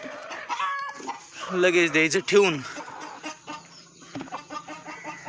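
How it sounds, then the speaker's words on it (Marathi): A broody free-range village hen clucks repeatedly in loud, agitated bursts as she is settled onto a new nesting spot, with a person talking over and between the calls. "झाली बसली आपली कोंबडी."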